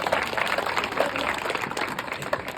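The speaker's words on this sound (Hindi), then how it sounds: "एक बार जोरदार तालियों से" A village crowd at a gathering for Babasaheb Ambedkar's birthday claps steadily in sustained, moderately loud applause lasting a few seconds, with scattered voices underneath.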